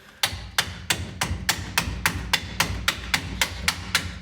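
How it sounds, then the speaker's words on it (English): Steady hammer blows on a rear disc brake part during a Toyota FJ40 rear disc swap, about a dozen sharp metallic strikes in an even rhythm, close and clear with no talk. "Are you supposed to hammer it like that?"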